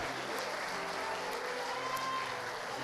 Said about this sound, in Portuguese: Aplaude mais forte, meu irmão